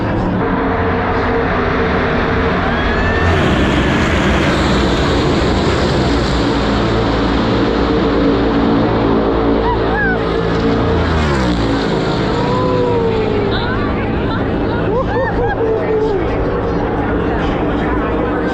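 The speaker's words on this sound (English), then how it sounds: "Nothing quite like the sound of those cars going by." Loud, continuous roar of fast race cars sweeping past at Daytona International Speedway during the Daytona 500, with engine pitch shifting as they go by, amid a noisy crowd and a voice speaking.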